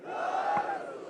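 Massed voices at a PPP political rally in Nagar answer a slogan together, a steady collective shout rising to a peak midway and tapering off, loud and diffuse.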